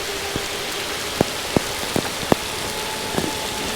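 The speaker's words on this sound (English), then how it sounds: "I didn't expect the rain was going to come in like this" Heavy rain pours steadily during a stormy electric scooter ride around Lake of the Isles, a dense continuous hiss with a few sharp close drop or tap clicks scattered through it, no talking.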